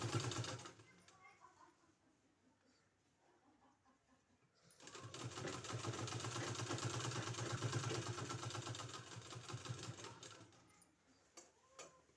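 A sewing machine stitches piping onto a garment neckline, a steady close mechanical whir and rapid ticking that runs for several seconds and then stops, with someone speaking before it starts.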